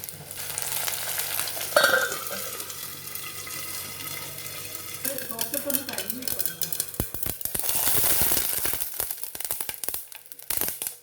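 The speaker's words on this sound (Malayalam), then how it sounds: "പച്ചമുളക്, ഇഞ്ചി, കറിവേപ്പില, ചുമന്ന മുളക് ഇത്ര ഇട്ട് ഇളക്കണം" Green chili, ginger, curry leaves and red chili sizzle in hot oil while being stirred in a pan for wheat kozhukattai. Crackling frying and scraping stirring continue throughout, with occasional clinks and a louder burst of sizzle near the end.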